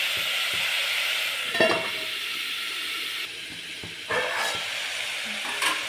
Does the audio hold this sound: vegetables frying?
yes